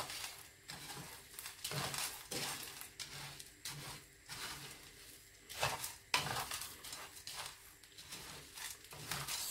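Sugar roasting in a pan until it melts for Sri Lankan coffee, heard as quiet repeated scraping and stirring strokes with light metallic clinks and a faint sizzle, and no voices.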